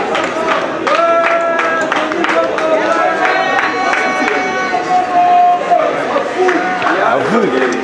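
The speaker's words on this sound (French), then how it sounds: "Sous vos applaudissements, Tony Coco Kountoala." Crowd applause at a trophy award ceremony as a recipient is called up, sustained clapping with cheering and chatter mixed in, steady and fairly close throughout.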